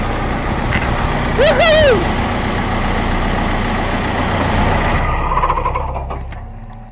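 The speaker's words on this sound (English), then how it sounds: "We just drove a Jeep underwater." A Jeep engine churns steadily while driving through water, a loud continuous rumble that fades toward the end, with an excited voice cheering over it.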